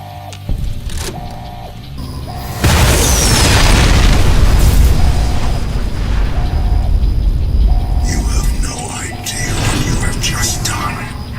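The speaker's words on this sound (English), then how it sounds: "reactivate the Archimedes system as if I'm firing a hole into Mars" The Archimedes laser in the video game Fallout: New Vegas explodes with a loud, sustained roaring blast that rumbles on for several seconds, with beeping electronic tones repeating in the background.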